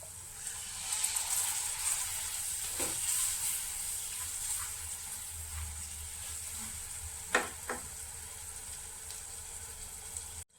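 Vinegar and green chillies sizzling in a pan for bitter gourd pickle, a soft continuous hiss with a few brief sharp clicks and utensil taps, fairly quiet and without speech.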